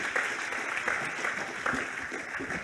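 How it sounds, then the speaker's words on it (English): A conference audience at a DeFi and NFT session applauds its speakers with a dense, even wash of clapping that holds at steady loudness from start to finish. "Can we give our speakers a round of applause"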